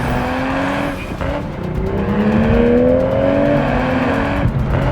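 A manual Toyota GR Supra accelerates hard up a mountain pass, its engine note climbing steadily through the gears with a brief dip at a shift, loud and close, with some tire noise underneath and no speech.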